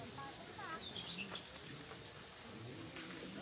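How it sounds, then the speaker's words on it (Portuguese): Birds calling and singing at a fishing spot, some loose and some caged, with short chirps and clucking notes over a steady outdoor background hiss. "As aves estão todas cantando."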